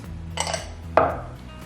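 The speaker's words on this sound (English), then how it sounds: "I'm gonna go ahead and combine our olive oils into this measuring cup." Olive oils poured together into a measuring cup with a spout, heard as two brief clinking knocks of glass and utensil in a quiet kitchen, close and distinct.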